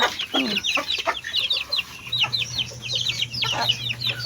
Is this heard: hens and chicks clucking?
yes